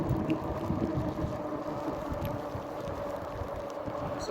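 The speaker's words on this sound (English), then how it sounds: "There's a lot of wind right now." Steady wind roars and buffets against the microphone on an e-bike ride through rain, a constant rushing noise at moderate level with no talking.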